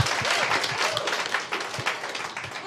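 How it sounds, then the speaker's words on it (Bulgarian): Steady applause from a live studio audience on a Bulgarian talent show, a dense continuous wash of many hands clapping for the whole stretch with scattered louder claps and no speech. "Тук се ръкопляска!"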